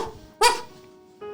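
A dog barks from behind a closed door in a Resident Evil motel roleplay scene, giving two short, moderately loud barks about a second apart.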